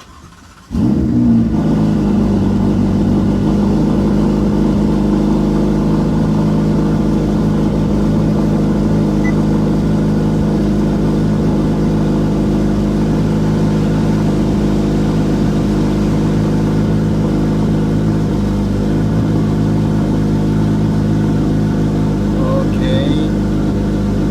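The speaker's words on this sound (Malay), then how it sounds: "Okay, kita start dulu enjin." A car engine starts abruptly and then runs at a steady, loud idle with a constant low drone, continuing alone after the start.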